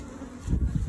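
Honey bees buzz close by at a top bar hive, a low droning hum that swells louder partway through the short moment.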